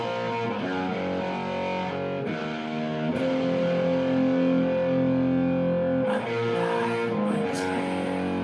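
A sustained electric guitar with light distortion, its pedal switched off, ringing out held chords and notes steadily and fairly loud with no talking.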